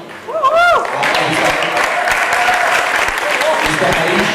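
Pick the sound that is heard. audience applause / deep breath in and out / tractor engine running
audience applause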